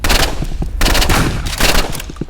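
Rapid bursts of automatic gunfire in a shooting video game, several loud rattling volleys separated by short gaps, close and dominant with no talking.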